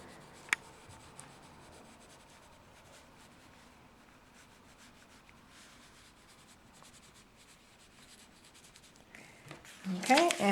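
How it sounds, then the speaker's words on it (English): Graphite pencil, tilted onto its side, shades the lips of a portrait drawing with soft, faint scratchy rubbing close by, and a louder paper rustle near the end. "if I want a softer value, I can use the side of my pencil instead of the tip."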